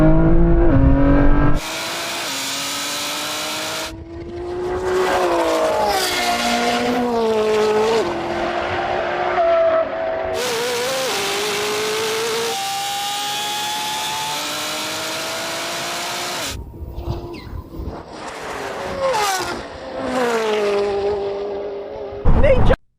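Koenigsegg Jesko, Lamborghini Revuelto and a 1000 hp BMW M3 launching in a drag race, with loud engine wails and rising revs through gear changes, sharp bursts separated by short gaps, with voices speaking over parts of it.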